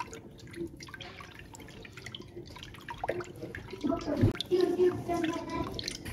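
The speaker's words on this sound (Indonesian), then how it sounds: "tambahkan 1200 ml air matang atau air yang sudah dimasak" Boiled water poured into a sweetened condensed milk drink mixture, a soft trickling splash that swells louder in the second half after quieter background sounds.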